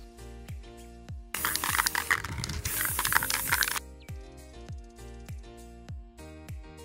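A spray can hisses in one continuous burst of about two and a half seconds, coating sanded bench power supply shells in light marine blue, with rhythmic background music before and after.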